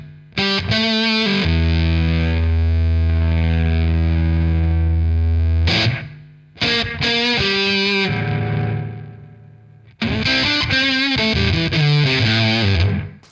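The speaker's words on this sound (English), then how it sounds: "So here's with the delay up a bit." Electric guitar run through a Big Muff fuzz pedal with a slapback delay turned up, playing loud sustained distorted chords in three long phrases separated by short pauses, alone without any voices.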